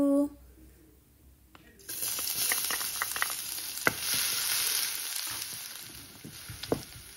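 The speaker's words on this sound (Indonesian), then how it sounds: "aku goreng dulu bawang putihnya sampai wangi dan golden brown gitu" Garlic frying in oil in a home kitchen pan until golden brown, a steady close sizzle with scattered small pops and clinks that starts after a quiet opening.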